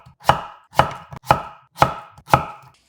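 A knife cuts a halved cucumber on the diagonal into slices about half a centimetre thick, making five crisp, evenly spaced chops on a board at close range with no talk.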